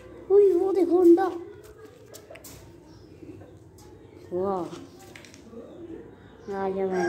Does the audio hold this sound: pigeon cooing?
yes